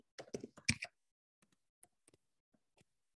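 Typing on a computer keyboard, a quick cluster of keystrokes followed by a handful of sparse, faint taps spread out, close and otherwise quiet.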